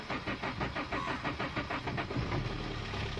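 A Maruti Suzuki Swift's engine cranks and catches after a lost-key programming job, settling into a steady mid-pitched idle that runs continuously and fairly loud with no talk over it.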